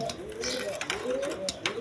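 A pair of young adult nun pigeons coos at a breeder's farm, with repeated low rolling coos running through the short stretch, fairly close, alongside faint clicking and rustling.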